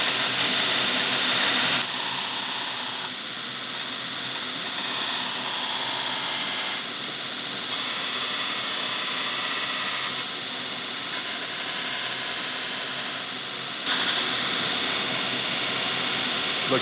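Spinning rubber wheel grinding a sword hilt in a workshop, a loud sustained hissing roar that rises and dips in level as the piece is pressed on and eased off, with brief quieter gaps.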